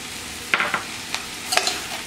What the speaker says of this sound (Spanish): Para sofreír el hongo con la cebolla y el ajo.